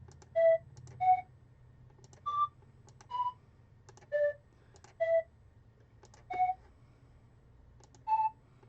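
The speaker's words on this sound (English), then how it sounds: "So I'm gonna just start clicking on a few notes here" Mouse clicks place notes in Beepbox, each answered by a short, clean electronic chiptune beep at a different pitch, about eight spaced tones over a faint low hum, with no voices.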